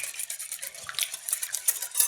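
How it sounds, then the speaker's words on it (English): A custard mixture is whisked briskly in a bowl, a close, steady scraping and clicking of the whisk against the sides with no pauses. "So let's just whisk this up."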